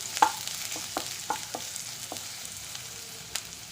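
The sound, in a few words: stirring chopped onion in a pan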